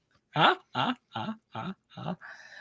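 A dog gives five evenly spaced, close, fairly loud barks or yelps, each short and separated by brief silences, followed by a softer whining tone at the end.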